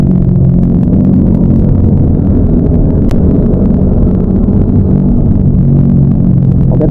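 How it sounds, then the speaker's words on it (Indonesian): Motorcycle exhaust rumbling steadily while riding, captured by a wireless mic worn in front of the rider's mouth; a loud, continuous low drone with wind buffeting and no speech. "di depan juga terdengar mungkin suara knalpot"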